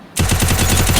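Rapid automatic gunfire from the battle royale video game Free Fire, a loud, steady burst of evenly spaced shots starting abruptly and continuing without pause, with no talk.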